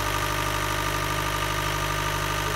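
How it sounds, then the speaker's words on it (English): A sailboat's engine, run to charge the batteries, hums loudly at a constant idle with a low throbbing drone, running continuously with no voices. "I'm trying to run the engine to charge the batteries"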